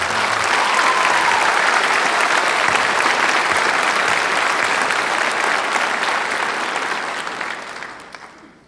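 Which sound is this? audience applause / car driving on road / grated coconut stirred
audience applause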